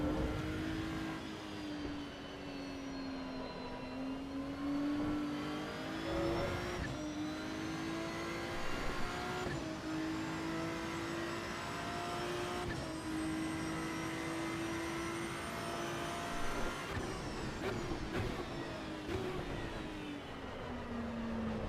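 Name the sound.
Ferrari race car engine in the video game Assetto Corsa EVO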